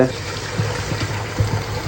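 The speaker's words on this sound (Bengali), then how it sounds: "পরিমাণ মতন গরম পানি হালকা অ্যাড করলাম।" Hot water pours into a cooking spice mixture for fish curry, a close watery splashing and gurgling with low bubbling underneath.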